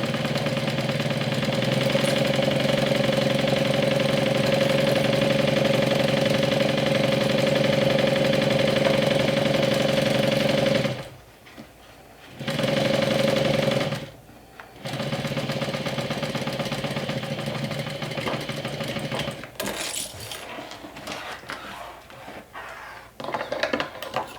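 A sewing machine motor hums steadily at an even pitch while stitching a zipper, stopping briefly twice, then resuming in shorter, uneven bursts.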